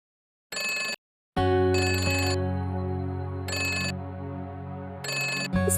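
A telephone handset in a Hindi TV drama rings in bright bursts of about half a second, four or five times, over a loud sustained musical drone. The rings are sharp and close, with no speech.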